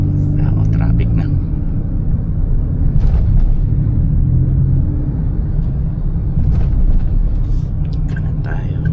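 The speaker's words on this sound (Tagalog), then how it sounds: "Medyo marami ng traffic na." Steady road traffic rumbles around a moving car, a continuous low drone of tyres and engines with passing vehicles swelling at moments, while a person talks quietly over it.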